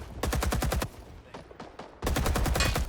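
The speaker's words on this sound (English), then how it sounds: "Always light up the objective with your MG." Bursts of machine gun fire from an RPD in Rising Storm 2, set in the Vietnam War: two long, rapid volleys of sharp, loud shots separated by a brief pause filled with a few scattered single shots.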